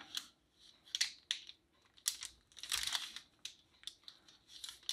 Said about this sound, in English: all I'm going to do now is just kind of cut this into strips.